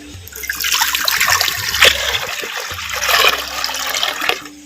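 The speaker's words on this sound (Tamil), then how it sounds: "மண் சட்டி வச்சுக்கிறேன் பச்சை தண்ணி ரெண்டு லிட்டர் சேர்த்துக்கிறேன்" About two litres of water is poured into a clay pot up close in two gushing bursts, splashing and gurgling as it fills.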